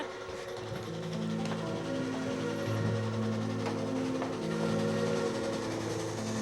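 A train passes with a continuous rumble and sustained horn-like tones shifting in pitch, loud and steady throughout with no talking.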